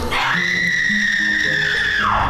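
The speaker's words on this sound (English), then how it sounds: "this creepy looking masked thing that screamed at me" A masked, costumed performer at a fantasy theme park lets out a loud, sustained scream at close range, holding one high pitch for about two seconds before it drops off.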